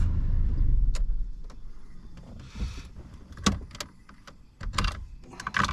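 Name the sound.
Audi A3 8L 1.8T being switched off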